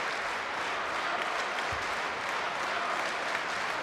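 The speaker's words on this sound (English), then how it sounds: "Crowd are applauding her." At a women's handball world championship match, an arena crowd gives a player steady, continuous applause, an even wash of clapping that holds at a constant level throughout.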